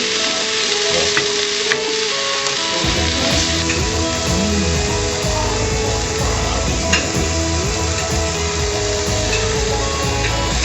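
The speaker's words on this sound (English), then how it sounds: "Now we're gonna mix this up. Onions have started to caramelize." Onions caramelizing in a frying pan, a loud continuous sizzle close up with scraping stir strokes and occasional clinks of the utensil against the pan.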